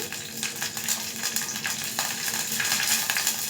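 Mutton frying in a pan for gongura mutton curry, a steady close sizzle with faint clinks and stirring scrapes throughout, no voices.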